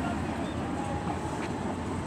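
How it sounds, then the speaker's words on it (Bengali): A low, steady rumble of a commuter train rolling slowly past a level crossing near Jamalpur station, heard from a flyover, continuous and fairly close, with no distinct clatter rhythm. "ধীর গতিতে ট্রেনটি গেট পার নামক স্থানটি অতিক্রম করছে"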